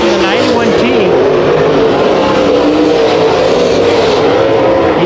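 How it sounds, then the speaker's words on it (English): Sprint cars racing at Bakersfield Speedway, a loud continuous engine roar with rising and falling pitch as cars run the track, under an excited announcer's commentary. "He's got a fast hot rod."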